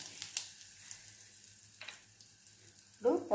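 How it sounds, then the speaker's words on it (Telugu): Asafoetida dropped into hot tempering oil with chana dal and cumin for Tenali Janatha Hotel style tiffin sambar, a faint soft sizzle with a couple of light clinks, then a louder crackling burst of frying at the end. "దీంట్లోని పోపులోనే కొంచెం ఇంగు వేసేసుకుందాం"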